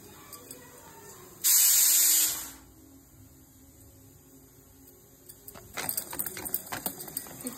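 Tap water gushes hard for about a second while dishes are washed up after a meal in a family home in Mangalore, then cuts off, followed by light clinks and rattles near the sink.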